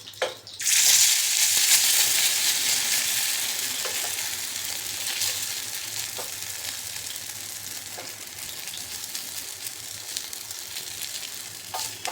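A bun dosa frying in a pan gives a loud sizzle that bursts in after a brief clatter and then slowly fades to a steadier hiss, with a few faint taps and no talk.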